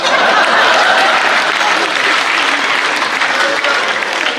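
Audience applause at a Hindi comedy and poetry stage show, a dense sustained burst of clapping from a large crowd, loud and continuous, easing slightly toward the end.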